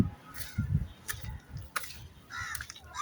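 Several crow caws ring out at intervals, fairly close, as crows arrive at food set out for them, over a low rumbling background with no talk.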